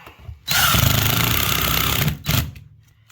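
A cordless power drill driving a screw during a luxury vinyl plank floor installation, one loud whirring burst of about two seconds followed by a short final spin, close by with no talk.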